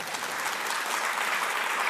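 Steady, dense applause from a seated audience at an Indonesian religious talk on debt and usury, a continuous wash of many hands clapping at moderate loudness with no pauses.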